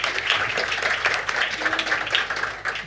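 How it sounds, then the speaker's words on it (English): An audience applauds the speakers at the close of an international energy cooperation event, with dense clapping that carries on steadily at moderate loudness and a voice heard faintly underneath. "Give a big applause to our excellent speakers."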